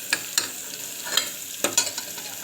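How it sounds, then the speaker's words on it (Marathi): Onion, garlic and tomato frying in a pan, with a soft background sizzle broken by several sharp scraping taps of a spoon stirring, close and fairly loud, no voices. "आता चांगला पूर्ण कांदा परतू द्यायचा आहे"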